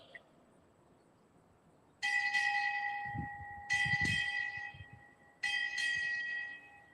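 A ship's bell is struck six times in three spaced pairs at a U.S. Navy change-of-command ceremony. Each bright ringing strike decays slowly, with faint low shuffling beneath.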